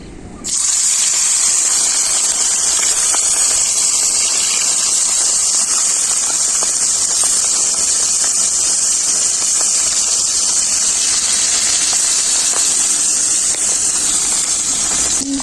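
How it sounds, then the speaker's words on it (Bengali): Bata fish frying in very hot mustard oil in a kadai, a loud, continuous hissing sizzle that starts abruptly and holds steady, close up and with no talking. "তেল খুব ভালোভাবে গরম হয়ে গেছে মাছগুলো একটা একটা করে ভেজে নেব"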